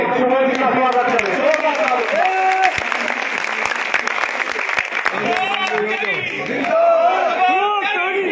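A street crowd on Karbala Road in Budhana claps loudly and steadily to welcome a speaker at a chairman-election rally, with voices and shouts carrying over the applause throughout.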